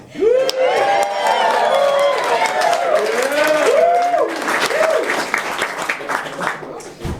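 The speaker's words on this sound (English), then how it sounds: "let's also take a moment to applaud our rock star wedding officiant, Zach." Wedding guests at a reception at Casa Felix in Barcelona break into loud, sustained applause with cheers and whoops, a close crowd roar holding steady before tapering into scattered claps.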